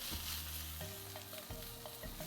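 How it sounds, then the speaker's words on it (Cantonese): Fish fillet sizzling skin-side down in a hot cast iron pan, a steady close frying hiss with low rumbling and occasional soft clinks, no voices. "咁我哋今次咧就試下煎魚啦"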